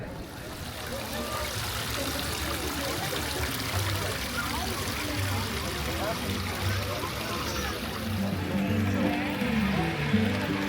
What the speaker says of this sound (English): You hear like water running in the background.